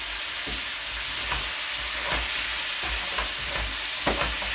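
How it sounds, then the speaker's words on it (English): Oxtail meat searing in a hot pan while being stirred, a steady broadband sizzle with scraping stir strokes recurring every second or so, close and continuous, no talking. "we're just searing it off, giving it a little color on each side"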